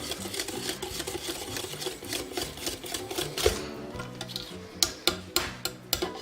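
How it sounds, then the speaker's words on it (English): Chocolate cupcake batter being mixed after vegetable oil goes in, a steady whirring machine-like mixing with rhythmic ticking and knocking, close and fairly loud, ending in several sharp taps. "Add in our vegetable oil. Mix again."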